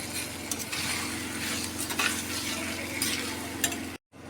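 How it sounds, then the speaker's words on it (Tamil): Tomatoes sautéing with salt in a pan, a continuous close sizzle with repeated scraping and stirring strokes of a spoon, fairly loud and steady before cutting out abruptly near the end. "தக்காளி நல்லா வதங்கட்டுங்க"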